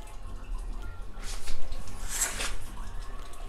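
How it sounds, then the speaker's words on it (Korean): Toilet water from another unit rushes through a shared drain pipe in an apartment building, a muffled gurgling surge that swells in the middle and tapers off, heard close to the exposed pipe. "다른 집에서 쓰는 양변기 물소리가 이렇게 들리는 거고요"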